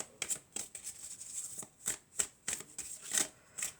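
Oracle cards being shuffled, a quick run of crisp papery riffles and snaps repeating in short bursts, close and fairly quiet with no voices.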